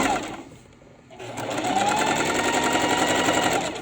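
A sewing machine stitches fabric for a homemade bunny bag made from dollar-store materials: a brief lull, then a loud, steady mechanical whir of rapid needle strokes running to the end.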